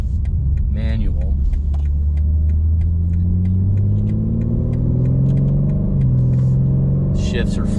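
A 2021 BMW M3 Competition's engine rumbles under way in M1 mode with its manual shift setting, revs climbing steadily through the clip beneath a persistent ticking, with faint voices near the start and end.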